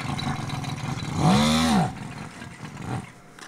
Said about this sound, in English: I know this moped, it is Karpaty, Ukrainian made by the way.